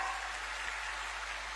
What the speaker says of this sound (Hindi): जोरदार तालियां बजाइए स्वागत स्वरूप